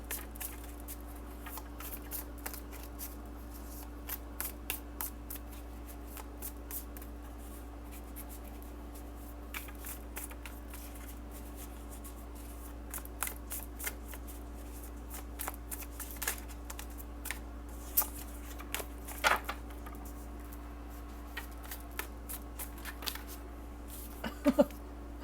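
Tarot cards shuffled by hand, with soft, quick riffling clicks and rubs scattered over a low steady hum. The sound is faint and close, with no talking.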